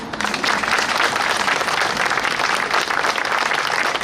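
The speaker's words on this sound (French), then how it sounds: "Je crois que nous pouvons l'applaudir." Applause at a May 8 commemoration ceremony in Bessan after a flag bearer receives an insignia, a dense, steady outdoor clapping from a crowd, sustained evenly throughout.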